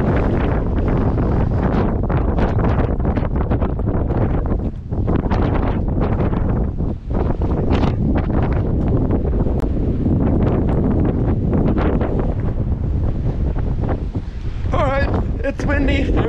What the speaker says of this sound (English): it's super windy, so mind the wind